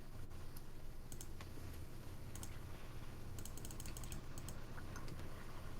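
Fast, irregular typing on a computer keyboard, quiet and close, with bursts of sharp key clicks over a low steady background hum and no voices.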